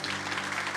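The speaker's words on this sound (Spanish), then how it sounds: "Dele ese aplauso fuerte al Señor" A church congregation applauding loudly and steadily, a dense continuous wash of clapping with a faint musical drone beneath it, lasting under a second.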